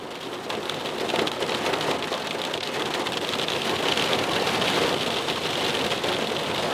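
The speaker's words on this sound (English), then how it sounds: "It's hammering down with rain now." Heavy rain pours down steadily outdoors during a storm at a carp-fishing lake, a dense, continuous hiss of drops drumming on surfaces throughout, with no voices.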